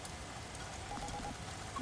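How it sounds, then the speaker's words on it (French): Rain pours steadily indoors through a broken, shattered roof window in a radio drama, a faint, continuous patter of drops with a few soft tonal sounds from the room. "ça pleut à l'intérieur là"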